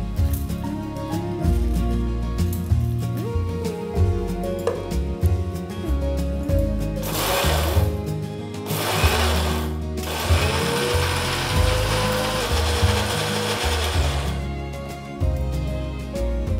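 A mixer grinder churns gooseberry (amla) chutney: a loud, close, steady motor whine with rattling, and a harsher grinding surge partway through.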